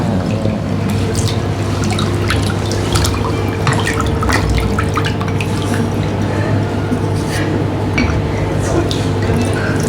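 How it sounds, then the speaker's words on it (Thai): A whirlpool foot bath at a spa churns steadily, with continuous bubbling, dripping and splashing water and a low motor hum throughout, loud and close, while voices talk faintly underneath. "เราก็จะพาทุกคนมาล้างเท้าก่อน อยู่ในอ่างน้ำวนแบบนี้เลย"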